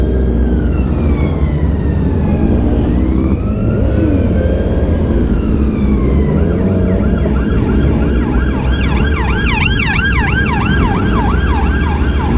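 A wailing police siren sweeps up and down amid steady loud night traffic rumble in London, then shifts to a faster yelping pattern as it draws nearer.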